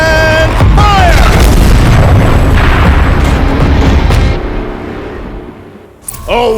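A turret fires in the game Horizon Zero Dawn at Maker's End: loud, heavy booms and crackling blasts erupt in a dense cluster, then fade into a long, dying rumble before one more sharp burst at the end.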